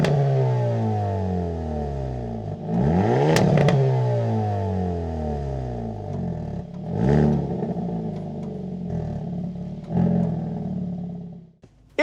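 A Hyundai Elantra N's engine revs hard and roars up close, its pitch sweeping up and down through several throttle blips with gear-like surges, then cutting off abruptly at the end.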